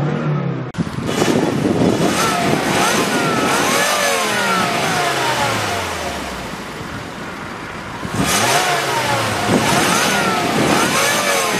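A Volvo XC90 with 168,207 km on it runs its engine, a steady mid-pitched hum with rising and falling revs, a dip in the middle and a swell near the end, loud and close, with no talking.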